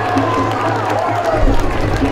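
A football stadium crowd cheers after a touchdown at a San Mateo vs Chabot college game, a loud sustained roar with clapping mixed in and a swell near the end.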